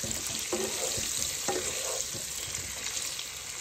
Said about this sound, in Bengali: দেখুন গোল্ডেন গোল্ডেন করে কিন্তু ভেজে নিয়েছি